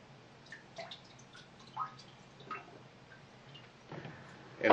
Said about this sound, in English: then rinsed with DI water.